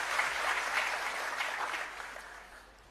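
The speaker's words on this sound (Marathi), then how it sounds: "आता जेवढ्यांनी टाळ्या वाजवल्या" Crowd applause at an outdoor political election rally, a dense burst of many hands clapping that fades gradually over a few seconds, moderately distant with no speech.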